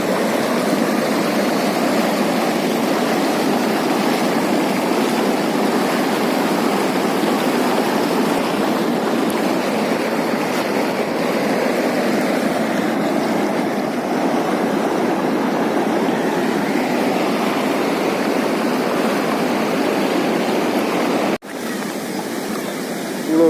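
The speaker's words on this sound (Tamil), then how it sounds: "தண்ணி போகிறது ரொம்ப அழகாக தெரியும்" Water flowing steadily along the walking path near Mozhiyanur Amman temple, a continuous broadband rush that stays loud and unchanging at close range, with no talk, before a brief dropout near the end.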